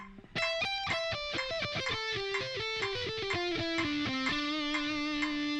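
An electric guitar with a slight distorted edge plays a quick descending sixteenth-note lick, four notes at half speed followed by four at full speed in a rapid run, ending on a held note.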